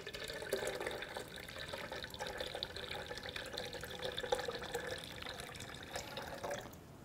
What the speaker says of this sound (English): And I'm gonna pour in the nut milk.